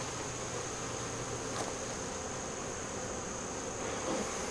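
Honeybees from a beehive just moved to a new bee yard, a steady dense buzzing swarm filling the air at close range, continuous and even throughout with no talking.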